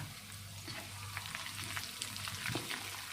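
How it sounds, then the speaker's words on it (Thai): Sliced red spur chili peppers frying in a pan of oil over moderate heat, a steady close sizzle with soft stirring scrapes running through the whole stretch, no voices. "เราก็จะนำพริกชี้ฟ้านะคะ หั่นอย่างนี้เลย เป็นแว่นๆแล้วก็ทอดลงไปนะคะ"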